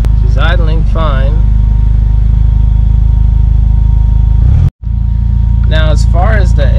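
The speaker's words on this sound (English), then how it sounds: "She's idling fine." A Mitsubishi Eclipse engine running E85 idles steadily and loudly up close, a low continuous rumble, while someone talks over it at the start and end.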